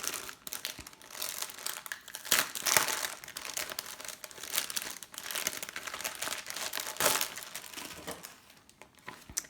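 Crinkly plastic packaging on a cross-stitch kit rustles and crackles as it is opened by hand, nearby, with irregular bursts of crumpling that swell and fade.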